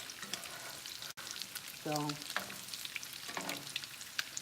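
Egg foo young fries in a pan with a steady, close hiss and crackle that runs throughout, broken by a short spoken word and a brief voiced sound partway through.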